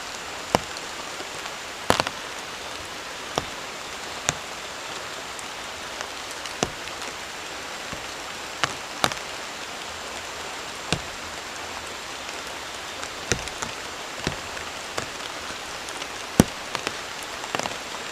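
Heavy rain pours steadily at a campsite, a dense constant hiss with sharp drips and taps striking a nearby surface at irregular intervals.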